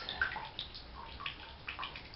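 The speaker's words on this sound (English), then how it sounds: "He's just going to go in the water like this." Water sloshes and splashes softly in a small bath as a hedgehog is gently lowered in, with quiet irregular gurgles and light swishes close by.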